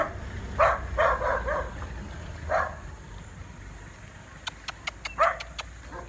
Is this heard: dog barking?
yes